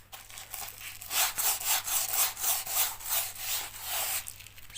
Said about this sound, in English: sanding pad, one I made up